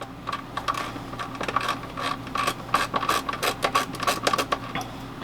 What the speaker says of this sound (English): So I went and got a socket and a ratchet to make this a little faster.